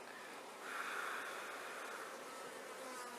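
Honeybees buzz steadily and close throughout a hive inspection, a dense continuous hum with a slight swell early on, no talking over it.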